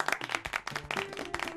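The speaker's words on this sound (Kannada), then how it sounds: "ಗುಡ್, ಚಪ್ಪಾಳೆ." Students in a classroom clap briefly in a quick, uneven burst of close hand claps lasting under two seconds, with a few tonal voice traces mixed in.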